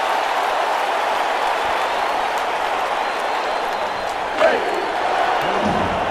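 A large stadium crowd at a New York football game roars in a steady, dense wash of cheering and applause, with a single sharp thump near the end.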